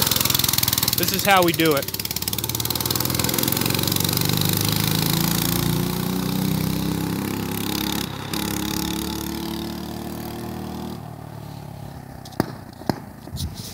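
A mini bike's small engine runs loudly and steadily throughout, with a brief rising rev early on and a few sharp pops near the end, while someone talks over it.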